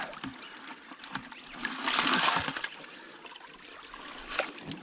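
Water pours and splashes into a bucket sluice used for gold mining beside a river, a steady moderate wash that swells briefly in the middle, with faint knocks and no speech.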